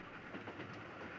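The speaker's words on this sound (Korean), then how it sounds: "대전 함락 후 미군 부상병들을 태운 기차는 대구로 향하고 있다." A train carrying wounded American soldiers rolls along as a radio drama effect, a faint, steady rumble with soft rhythmic rail clatter and no voices.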